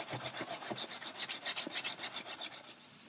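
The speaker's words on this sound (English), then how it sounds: "And now we've started sanding" Sanding the plastic hull of a 1/400 scale Queen Mary 2 model by hand, a quick, even rasping rub repeated in steady back-and-forth strokes, close and alone.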